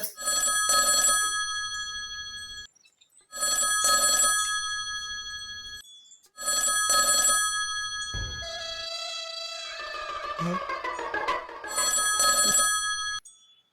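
A telephone bell rings loud and close in repeated bursts separated by short silences, with one gap filled by a different tonal sound before the ringing resumes.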